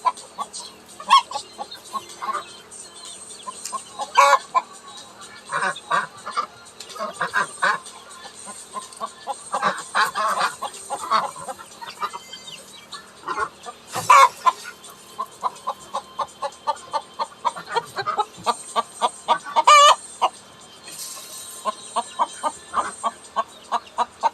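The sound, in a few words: chickens clucking at feeding time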